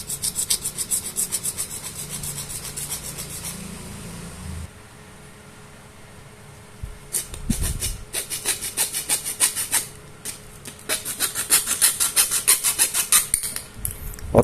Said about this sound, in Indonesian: Dan saya di sini menggunakan gergaji besi